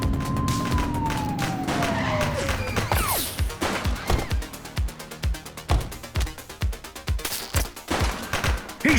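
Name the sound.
gunfire in video game The Precinct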